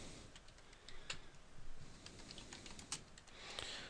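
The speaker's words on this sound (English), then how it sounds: "So what we would do is we would type in" Computer keyboard typing with quick, irregular key clicks running steadily at a soft, close level, no voice present.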